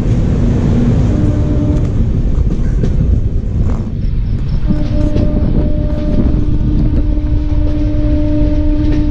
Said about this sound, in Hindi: और दूसरी तरफ भी कोई एक ट्रेन जा रही है, कोई एक स्पेशल ट्रेन है।